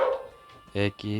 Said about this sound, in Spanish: perdona mi perro